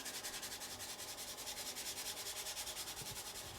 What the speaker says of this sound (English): It's basically just rubbing it over the top.